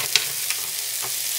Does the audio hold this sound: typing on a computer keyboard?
no